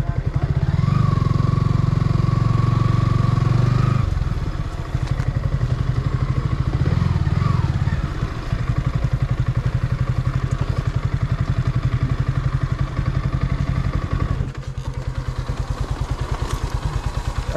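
A motorcycle engine runs loud and close at Nilachal in Bandarban, rumbling steadily with a heavier surge in the first few seconds and a brief shift in tone near the end.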